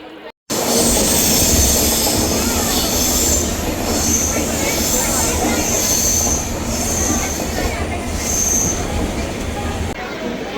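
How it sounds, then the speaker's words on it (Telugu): The Charminar Express pulls out of Secunderabad, a loud continuous rumble of rolling wheels with high squeals and clatter from the rails, heard from inside a general compartment. "ఆరున్నరకి ఎగ్జాక్ట్గా బయలుదేరేసింది ట్రైన్ సికింద్రాబాద్ నుంచి."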